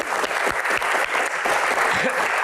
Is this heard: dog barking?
no